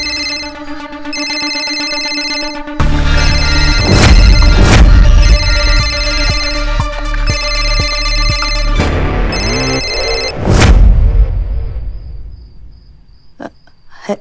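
A phone rings with a repeating electronic ringtone in bursts, loud and close, mixed with dramatic booming music hits before fading out.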